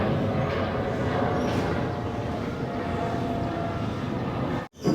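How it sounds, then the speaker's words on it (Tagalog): Airplane passing high overhead above a pigeon loft and aviary, a steady, loud broadband drone filling the whole clip without talk, cut by a brief dropout near the end. "Sa ilalim ng eroplano."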